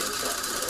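A Sankyo Sound 600 film projector auto-threading its film gives a steady, close mechanical whirring with a fine ratcheting, gear-like texture, continuous and unbroken for under a second.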